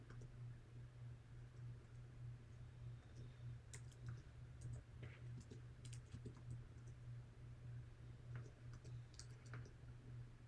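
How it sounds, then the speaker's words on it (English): Quiet key presses on a computer keyboard tap out a short name in an irregular series of light clicks over a steady low hum and background hiss. "And I'm going to type his name."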